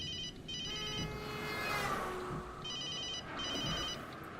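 A phone in a scene from the TV series Torchwood rings in repeated electronic bursts, two pairs of rings separated by a gap, over steady car and road background noise with no talking.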